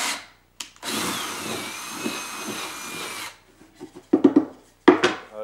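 A jigsaw cuts a quarter-inch mold board with a loud, steady buzzing run of a few seconds, followed by short clattering bursts as the blade starts and stops.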